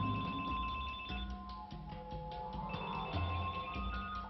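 Mobile phones sound their alerts as layered electronic ringing and trilling tones, overlapping and repeating at a steady, moderately quiet level with no voices.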